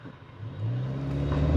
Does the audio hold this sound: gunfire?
no